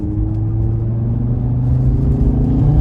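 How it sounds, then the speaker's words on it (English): A 2018 Audi RS3 accelerating hard fills the space with a loud, deep, continuous engine rumble that builds slightly as it pulls. "one last little pull in the Audi RS3"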